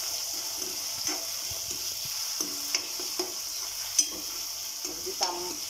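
Chopped tomato sautéed in a pan for dal tadka: a soft, steady sizzle with occasional scraping stirs and light clicks of the spatula, close and fairly quiet, with no one talking.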